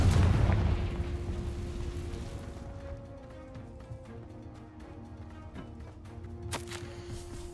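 Confringo fire spell blast in the Hogwarts Legacy video game, a loud booming burst at the start that fades into a rumbling tail and quieter game ambience.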